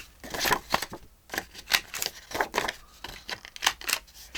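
Card edges are trimmed for a handmade Christmas notebook, a close series of sharp snipping and crunching cuts, roughly one or two per second, in an uneven rhythm.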